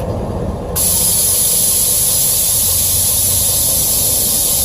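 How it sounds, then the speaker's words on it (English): Loud, steady hiss of pressurized air rushing out of the relief valve of Airlift Loadlifter 5000 Ultimate Plus air suspension on a 2017 Ford F-450, starting abruptly after a brief quieter moment and continuing without letup. "once I lower it down, you'll hear the relief valve."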